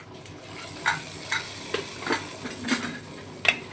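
Hot tempering (thalippu) is poured into a dish with a sizzle, a steady frying hiss carrying light metallic clinks of a ladle against the pan, close and fairly quiet, with no voices.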